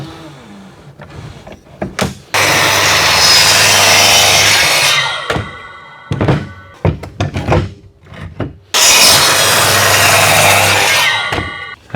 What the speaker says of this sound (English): So I'm just cutting out triangles at 45 degree.